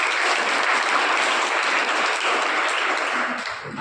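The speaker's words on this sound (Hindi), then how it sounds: "आप सभी एक बार जोरदार ताली अपने लिए बजाओ" A crowd at a fire brigade safety demonstration claps loudly for themselves, a thick sustained burst of applause that tapers slightly at the end.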